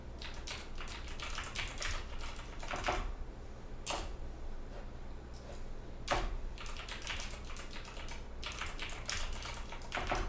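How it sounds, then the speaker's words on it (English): Someone types rapidly on a computer keyboard close by, a continuous clatter of key presses punctuated by several sharper, louder strikes. "Oh my God, this keyboard is so distracting."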